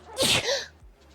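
A single sharp human sneeze, close and loud, a quick breathy burst followed by quiet.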